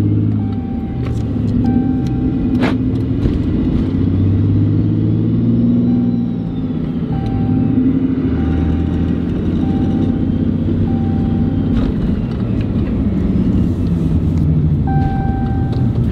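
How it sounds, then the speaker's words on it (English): A RAM 2500 pickup truck with a semi-style shifter and dual-disc clutch driving down a street, its engine rumbling loudly and revving up and down as it shifts through the gears, with no talk. "Just about to take it down the street real quick, see how we do shifting all the gears."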